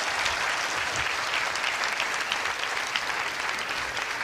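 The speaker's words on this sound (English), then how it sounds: "All right, give a round of applause." An audience claps steadily in a continuous round of applause, even and dense from start to finish.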